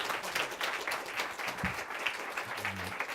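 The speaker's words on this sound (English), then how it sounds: "let's give our panel a round of applause." Audience applause for a panel at a vector-borne and water-related disease workshop, a steady dense clapping that fills the whole short stretch at moderate distance, with no talk over it.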